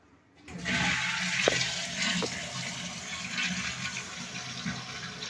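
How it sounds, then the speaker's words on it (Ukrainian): A toilet flushing from a wall-mounted concealed cistern installation that leaks water during the flush: a sudden loud rush of water that keeps pouring steadily, close by in a bathroom, with no voices. "зараз спустимо воду"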